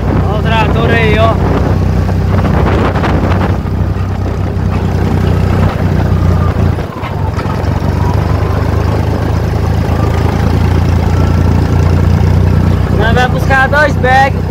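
A Valtra tractor's diesel engine runs at a steady, loud, low chug on the road, with wind buffeting the microphone and short bursts of voices near the start and end.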